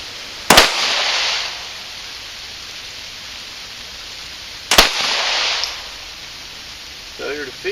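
Two sharp Glock pistol shots with a flat-faced trigger at an outdoor range, 5 yards out, spaced about four seconds apart, each with a loud crack and a short ringing tail, then faint handling noise near the end.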